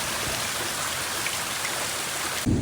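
Heavy downpour pours over a flooding backyard, a dense, steady hiss of rain that stays loud and constant throughout, with a brief thump near the end.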